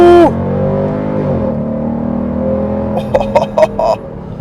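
Inside the cabin of a 2024 Dodge Durango SRT 392 with its 392 V8, the engine note rises and holds a steady droning tone under acceleration, then shifts lower, with a few short voice sounds near the end.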